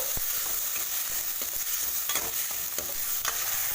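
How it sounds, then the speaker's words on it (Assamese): A spice paste mixture for a soybean curry fries in a kadai while a spoon stirs and scrapes it, giving a steady close sizzle broken by repeated scraping strokes. "একেখন কেৰাহীতে মই যে পিচি ৰাখিছিলোঁ মিশ্ৰণটো দি অলপ সময় ভাজি ল'ম।"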